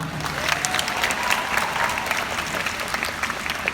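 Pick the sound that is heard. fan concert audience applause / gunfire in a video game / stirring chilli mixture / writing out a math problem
fan concert audience applause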